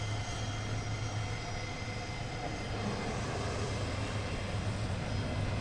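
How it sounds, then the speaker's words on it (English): A jet aircraft taxis at London Luton Airport, its engines giving a steady, distant roar with a low hum underneath, even and unbroken throughout. "And as he's taxiing in, we have another inbound aircraft."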